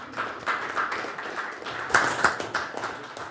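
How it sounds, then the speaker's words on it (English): An audience at a park board meeting claps for a few seconds, a dense, even patter of many hands with a few louder swells, no voices over it. "Yeah, applause, please."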